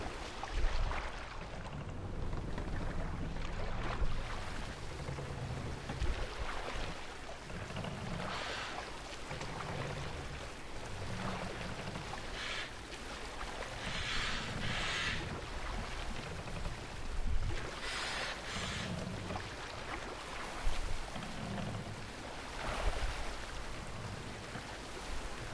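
A boat sailing across open water in a Viking-era video game, with a steady wash of water and wind, soft rhythmic swells of oars or waves, and low rumbling underneath, continuous and moderately loud throughout.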